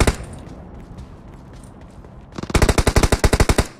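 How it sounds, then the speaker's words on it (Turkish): An Uzi submachine gun in PUBG Mobile fires a loud, rapid burst of about a dozen close shots, coming after a quieter stretch of ambient game noise. "Oo yine bir Uzi vakası."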